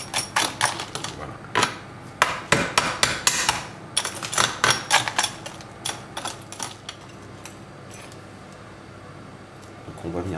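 A hard salt crust baked around a sea bass is cracked open in a kitchen, giving a burst of sharp, close knocks and crunching taps in quick irregular clusters that thin out and leave near silence.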